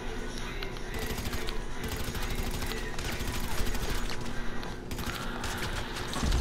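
Sustained automatic gunfire from a machine gun in GTA 5, dense rapid bursts running continuously at close range, with brief thinner gaps and layered game noise underneath.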